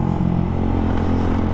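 A Suzuki Gixxer motorcycle fitted with an Akrapovic full exhaust system idles nearby, a deep, steady, throbbing burble with an even pulse and no revving in this brief moment.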